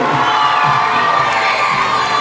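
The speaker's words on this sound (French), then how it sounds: "Applaudissez le très fort public" A theatre audience at an improv championship final cheers and whoops loudly for the Normandy team, a sustained roar of voices and clapping throughout.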